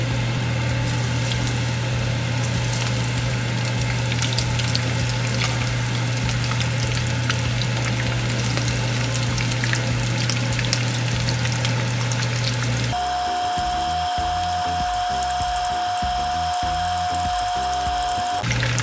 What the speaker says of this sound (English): So let us fry the shrimp, guys, and it's not gonna take really long